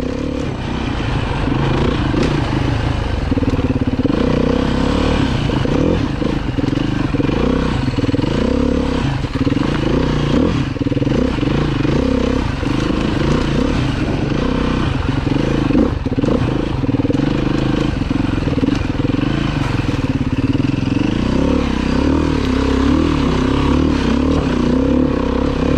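A dirt bike accelerates along a slick dirt trail, its engine droning loud and steady from close range with small surges as the throttle opens, and no voices.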